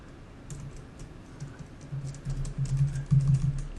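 Keyboard typing while entering code on a computer, a rapid run of soft key clicks that grows busier and louder toward the end, close and steady with no talking.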